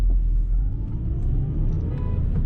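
A 2008 Suzuki Swift 1.3 Shogun car drives along, its engine holding a steady low rumble with road and cabin noise, no voices.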